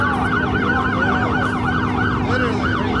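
Police siren wailing at a nighttime car meet, its rising and falling wail loud and continuous over a steady low engine hum, with no one talking.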